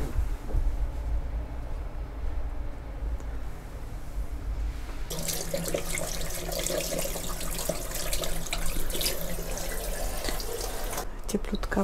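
Water runs steadily from a tap in a TLK Karkonosze train sleeper compartment, a continuous broadband rush that starts partway through and continues at moderate loudness over low train rumble, with a brief voice nearby.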